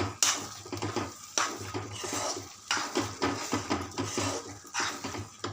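Masala mixed in a metal cooking pot with a spoon, a close series of clanking scrapes and knocks against the pot in an uneven rhythm, fairly quiet, with no talking.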